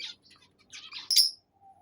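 Pet lovebirds in an aviary give a few short, high-pitched chirps in quick bursts, with one sharper, louder call near the end and quiet gaps between.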